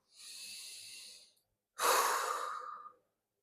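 Two slow, deep breaths taken as a relaxation exercise, a long airy inhale followed after a short pause by a fuller, louder exhale, close and quiet with no talking.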